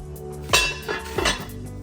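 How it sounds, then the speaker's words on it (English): Sourdough loaf lowered into a Dutch oven: a clanking metal knock followed by two more softer pot-and-lid clinks, close and clear with no talk. "take it, put it inside of the Dutch oven"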